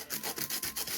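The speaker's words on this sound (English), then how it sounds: "sanding it flat" A vacuum-formed plastic model kit part is rubbed flat on 180-grit sandpaper, a quick series of about seven rhythmic scratchy strokes, close and fairly quiet.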